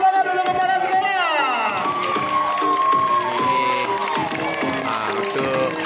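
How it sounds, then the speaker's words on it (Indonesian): At an elementary school children's fashion contest, a crowd cheers and claps for the school principal under loud playing music, with voices shouting over the din. "Tepuk tangan dulu kepala sekolah."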